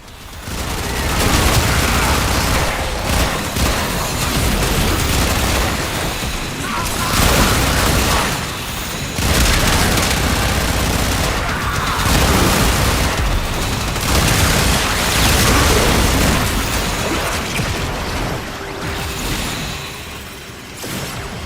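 Warframe gunfire: rapid, loud volleys of shots and booming impacts in repeated bursts with brief lulls, layered under an occasional speaking voice.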